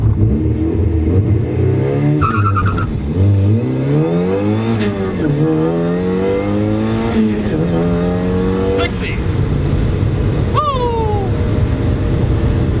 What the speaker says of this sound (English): I definitely need to give it more gas on the launch because I bogged down there. But it goes through the gears quickly.